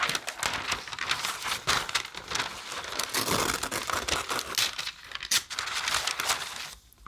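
Sheets of tracing paper are handled, rustled and crinkled up close in continuous crisp bursts of crackling and crumpling, fairly loud, with no voices.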